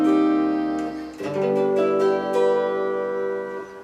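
Steel guitar in C6 tuning plays sustained chords that slide and shift in pitch, with ringing harmonics and a few struck notes, clear and alone.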